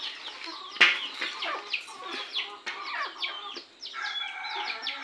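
Backyard chickens cluck and squawk in a busy, overlapping chorus, near and moderately loud, with a sharp louder call early on and no speech.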